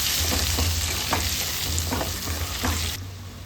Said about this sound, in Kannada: ಮೊಟ್ಟೆನೇ ಈ ಥರ ಎಣ್ಣೆಯಲ್ಲಿ ಫ್ರೈ ಮಾಡ್ಕೊಂಡ್ರೆ ಆಯಿತು